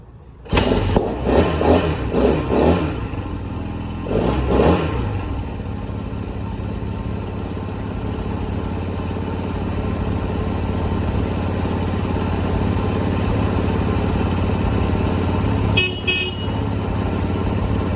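Small Honda CT90 motorcycle engine catching after a few sputtering starter bursts, then settling into a steady, fairly loud idle that holds for many seconds with a brief clattery blip late on.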